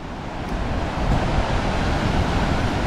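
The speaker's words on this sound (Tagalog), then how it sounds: "Grabe yung alon, Jay!" Strong ocean waves crash and roll on a windy day, steady broadband surf roar mixed with gusting wind buffeting the microphone, loud and continuous throughout.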